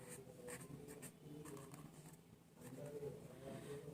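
A pen writing by hand on paper, close and soft, with scratchy strokes in short repeated bursts and brief pauses between them, quiet and without talk.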